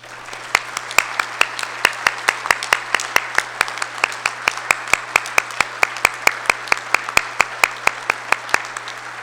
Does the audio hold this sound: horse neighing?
no